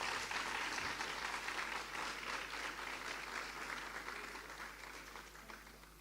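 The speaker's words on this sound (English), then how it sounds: "Give a round of applause to the college as well" Audience at an agricultural college graduation ceremony applauds, a dense, continuous roar of clapping from a large crowd that slowly thins toward the end.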